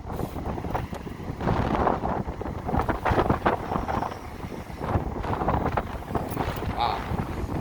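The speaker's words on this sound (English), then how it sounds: "We got a lot of wind. Got a lot of wind out here." Strong wind outdoors buffets the microphone in heavy, uneven gusts, a loud rumbling roar that swells and drops throughout.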